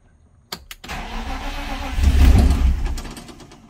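A car engine cranks weakly with a few sharp clicks, then catches and roars to life, revving up loudly before settling down.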